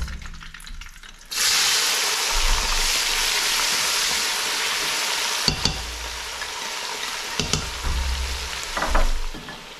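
Onions sizzle loudly in hot oil in a pan for Senegalese jollof rice, a dense steady frying hiss that starts suddenly and continues throughout, with occasional clunks and scrapes of stirring.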